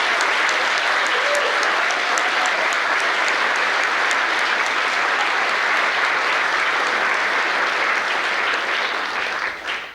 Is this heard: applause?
yes